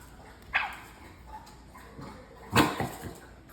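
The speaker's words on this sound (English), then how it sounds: "they barked at each other" Two dogs trade a few short barks and yips, fairly quiet, with a sharper bark near the end against a soft background.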